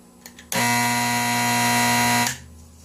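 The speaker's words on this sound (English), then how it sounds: "So this is the alarm." A 1947 General Electric clock radio alarm lets out one loud, steady electric buzz for about two seconds, starting abruptly and cutting off, close to the listener.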